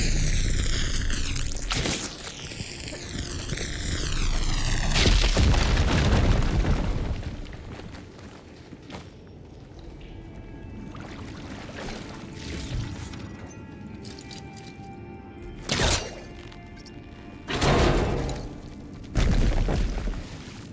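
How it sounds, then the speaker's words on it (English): A fire gleam blowing up in Horizon Forbidden West, a loud booming blast with a rushing, crackling burst that rolls off into rumbling debris and game ambience, followed by a few sharper thuds later. "Should be able to blow up that fire gleam."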